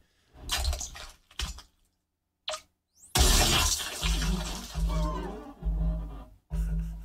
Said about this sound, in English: Sliding down glass and then the heart sounds like it's inside the glass